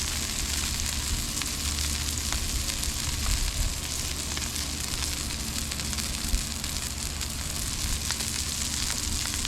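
Burger patties sizzle steadily on a cooktop, some topped with pepper jack cheese, giving a dense, continuous crackling hiss at close range with no pauses or speech throughout.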